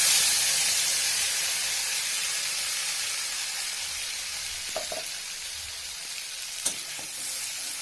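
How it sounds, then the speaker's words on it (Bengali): Cumin seeds dropped into hot oil give a loud, steady frying hiss close up that slowly eases, with a couple of faint clinks and a soft tap near the end. "তেলের মধ্যে আমি জিরে ফোড়ন দিলাম।"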